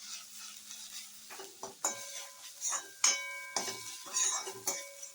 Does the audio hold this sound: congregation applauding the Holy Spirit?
no